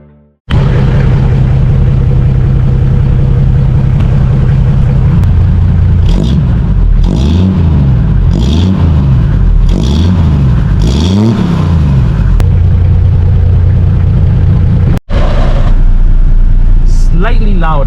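A Toyota Land Cruiser engine idling loud and close through a new chrome muffler and tailpipe, with a steady rumble broken by several rhythmic revs that swell and fall before settling back to idle, with no talk.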